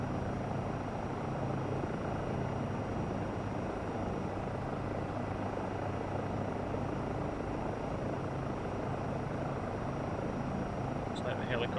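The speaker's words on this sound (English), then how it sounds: "Just let the helicopter land itself. There we go, we're on the skids." In Microsoft Flight Simulator 2024, a simulated Eurocopter EC135 or Bell 407 settles onto its skids. Rotor and engine noise hold as a steady, even drone throughout, with someone talking over it.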